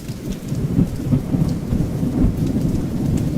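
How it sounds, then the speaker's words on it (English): AI-generated steady rain patters down with a continuous hiss while low thunder rumbles softly in the distance throughout. "gentle rainfall with distant thunder, rather than just rain"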